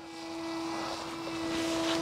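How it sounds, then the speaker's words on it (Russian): A model airplane flies under motor power outdoors, giving a steady, droning propeller whine. It continues without a break and swells slightly louder as it goes, with no voices. "На моторе летит."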